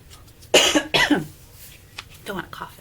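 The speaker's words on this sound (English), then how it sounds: "Don't want to cough in your face." A few sharp coughs burst out close and loud from a woman, clustered in the first second and a half, followed by softer throat sounds and breathy noises in a quiet room.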